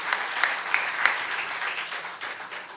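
Church youth congregation applauding during a sermon, a short burst of claps with a few sharper hits near the start, then tapering off.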